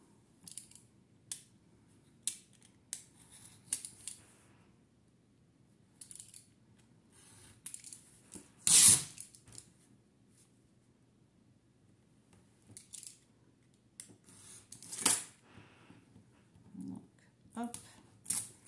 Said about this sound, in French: je coupe des bandes de 10 cm.